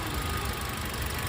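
A 2017 Toyota Avanza Veloz 1.5 manual idles steadily up close, its engine giving a continuous low rumble with a fine ticking texture, heard alone without any talk.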